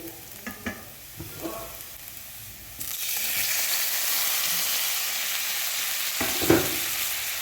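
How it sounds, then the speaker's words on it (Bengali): Tomatoes tipped onto fried onions in a pan burst into a loud, continuous sizzle partway through, after a few soft clatters, with a couple of stirring scrapes later on. "পেঁয়াজটাও ভাজা হয়ে গেছে, এবার দিয়ে দেবো এর মধ্যে টমেটো।"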